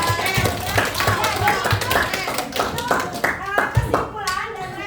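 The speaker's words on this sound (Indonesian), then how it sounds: "kita kasih aplaus" Students applauding in a classroom biology lesson on cell organelles, a few seconds of scattered, uneven hand claps from a small group, close and bright, with children's voices faintly mixed in.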